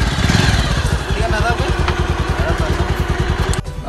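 Several motorbikes idle and pull away together on a rural Nepali road, a loud, rhythmic thumping engine chug close by with clattering tones and some voices underneath.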